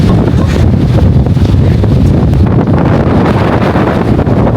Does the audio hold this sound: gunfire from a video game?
no